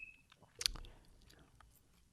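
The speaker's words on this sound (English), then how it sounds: "Just sounds of me chewing gum now." Soft, close mouth sounds of gum being chewed, with faint wet smacks and one sharper click, quiet and intimate with no speech.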